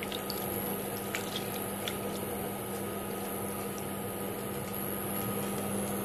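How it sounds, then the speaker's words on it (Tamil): Water heating in a pot on a stove while cooking sambar, giving a steady low hum and hiss with a few faint ticks and drips, no one talking. "தண்ணி நல்லா சூடு பண்ணிகிட்ருக்கேன்."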